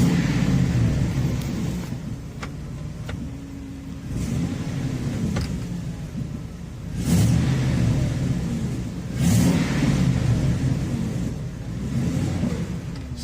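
A car engine idling with a steady low rumble and slight surges as the transmission is shifted into drive, with light clunks over the running engine, on a vehicle with a 4L80E transmission showing valve body issues.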